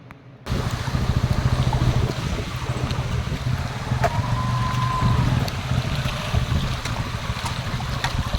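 After heavy rain, rainwater rushes through village fields in a steady, close gurgling flow mixed with wind, and no voices are heard.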